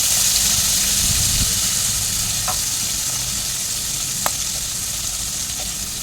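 Green chili and turmeric frying in a pan with boiled chickpeas, a loud steady hiss and sizzle up close, with a few faint stirring clinks, no talk.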